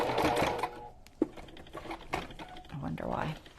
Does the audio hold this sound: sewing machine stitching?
yes